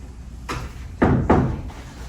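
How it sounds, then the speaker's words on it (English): A door takes three loud bangs, one single hit followed by a quick pair, each sharp and close with a short ring in a quiet room. "a loud bang bang was heard at the door"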